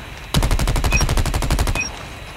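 A single sustained burst of Maddox rifle fire in Call of Duty Mobile, about fifteen fast evenly spaced shots lasting over a second, loud and close, followed by a brief ringing tail.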